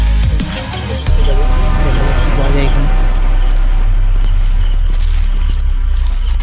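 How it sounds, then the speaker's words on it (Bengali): Crickets chirp continuously outdoors at night beside an old hut site in rural Bengal, a steady high-pitched trill over a low rumbling background hum, with no speech. "সেই পুরনো যুগের ঝিঝি পোকার ডাক"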